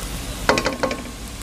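A spoon scrapes briefly through chow chow masala and chilli powder in a pan, a quick cluster of four or five close, gritty strokes over faint background hiss.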